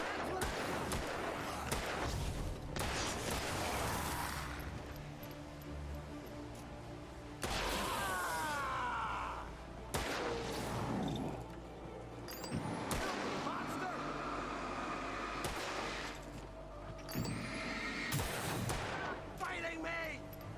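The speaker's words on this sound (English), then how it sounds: "This guy's kind of shit with his gun." Enemy gunfire in the video game Alan Wake 2 comes in several loud bursts of shots separated by short pauses, with low rumbling ambience and someone talking between them.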